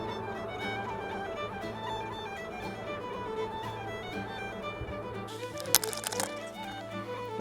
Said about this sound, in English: That's the sound of an angry hive.